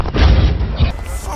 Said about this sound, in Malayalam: നിർത്തിക്കോ ബോംബ് നിർത്ത് ബോംബ് ബോംബ് ബോംബ്